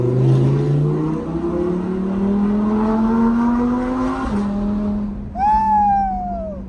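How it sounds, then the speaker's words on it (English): An Audi R8 sits idling and revving loudly, its exhaust holding a deep, rising drone for several seconds, then dropping off before a short blip of revs climbs and settles. The sound is close and powerful with no talk. "when it burbles like that, it burbles the whole entire surrounding area"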